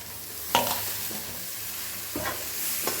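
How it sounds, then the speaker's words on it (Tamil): Cabbage, carrot and beans sauté in a pan, giving a soft steady sizzle broken by a few sharp scrapes and stirs of a spoon against the metal. "கொஞ்சம் வதங்கினதும் கோஸு, கேரட்டு, ஒரு 2 பீன்ஸு நறுக்கி வச்சதை போட்டுக்கோங்க"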